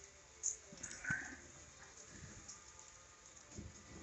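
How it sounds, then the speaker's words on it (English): Rain falls steadily on a house roof overnight, a faint continuous patter with a few louder drop hits over a quiet background, no voices. "And rain hitting the roof."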